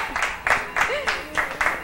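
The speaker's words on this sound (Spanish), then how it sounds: "A ver, aplauso." Applause from a Halloween show audience comes in a few pulsing bursts of clapping, fairly close, while a voice speaks over the top.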